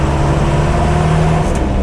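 Heavy city traffic during Easter surrounds the vehicle, with a steady close engine drone and a constant low rumble of cars and buses all around.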